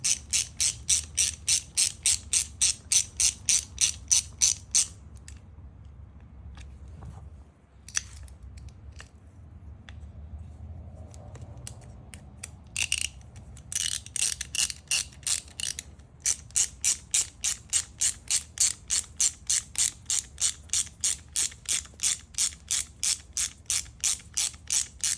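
Screws being tightened on an aftermarket monoball mount for a B8 Audi, a rapid, steady run of sharp ratchet-like clicks close up, pausing in the middle for a few quieter scattered clicks and knocks before the even clicking resumes.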